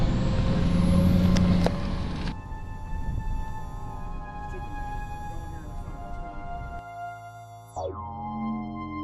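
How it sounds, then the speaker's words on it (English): Road traffic hums from inside a moving vehicle, with a car following close behind, engine drone and tire rumble steady, a loud passing whoosh early on and a falling pitch near the end, no talk. "We got a car right behind us."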